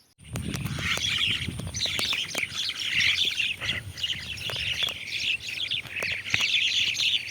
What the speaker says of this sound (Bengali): সকালবেলা পাখির কিচিরমিচির শব্দে ঘুম ভাঙাতে খায় না ভালো লাগে